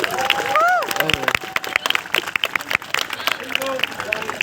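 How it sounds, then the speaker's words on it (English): Audience applause and cheering for a volunteer at a science festival water show, a dense crowd of claps and calls lasting throughout, with voices over the top. "give our volunteer a huge round of applause"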